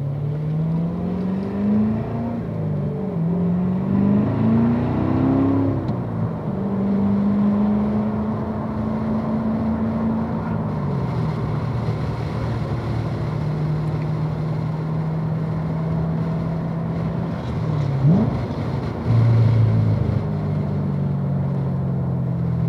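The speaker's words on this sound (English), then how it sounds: "to videotape a few laps of John on the track in his beautiful 2014 Corvette" A 2014 Corvette laps Virginia International Raceway during a driver education track event, its engine droning and rising and falling in pitch through the gears as it accelerates and passes, heard steadily from outside the car for over twenty seconds.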